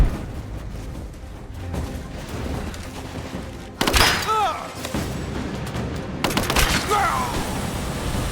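Gunfire in Rise of the Tomb Raider comes as a chaotic fusillade of shots and thudding impacts, with louder bursts in the middle and later on, under shouted character voices.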